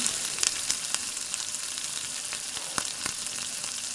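Vegetables fry in a pan with mustard seeds for spicy broken-wheat porridge, a close, steady sizzle scattered with sharp crackles and pops of varying strength.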